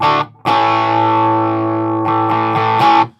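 A loud electric guitar with a Tube Screamer-like overdrive holds a thick, mid-heavy distorted chord, then picks a few more sustained notes before cutting off.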